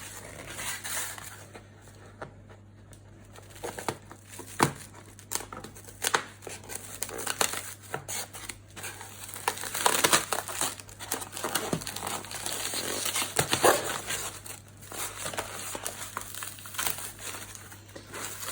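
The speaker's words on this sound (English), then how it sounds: "Carry on taking this tape off." Packing tape is pulled and peeled off a cardboard box during an unboxing, with repeated crinkling, ripping and crackling bursts close by and fairly loud, with a voice briefly in the background.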